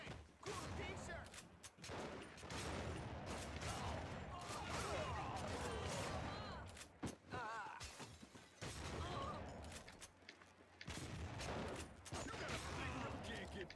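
Gunfire in The Punisher video game: dense, continuous bursts of rapid shots with crashing impacts, quiet overall and broken by short pauses, with a voice speaking over the shooting.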